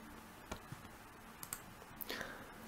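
A few faint, sharp computer mouse clicks, spaced apart and quiet, set against a low background hiss.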